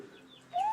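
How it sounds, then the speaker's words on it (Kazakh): A chicken gives a single brief cluck-like call, rising at the end and fairly close, after a moment of near quiet. "Мынау тауық явно."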